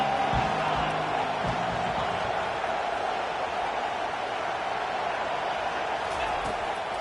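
Stadium crowd in a football video game roars steadily and loudly throughout, a broad continuous wash of noise with a few low thumps early on and muffled voices beneath.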